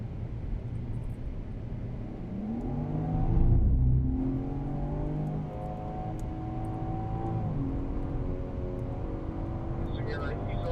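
A BMW on a race track at COTA holds a steady engine drone from inside the car, easing slightly and swelling briefly partway through, with a driver talking over the continuous hum.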